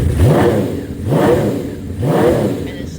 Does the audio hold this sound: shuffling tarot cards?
no